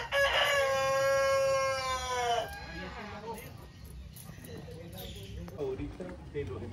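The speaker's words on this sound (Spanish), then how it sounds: "Faisán dorado, véalo." A golden pheasant in a park aviary gives one long, strained, harmonic call lasting about two seconds. Afterward, people talk softly over faint background noise.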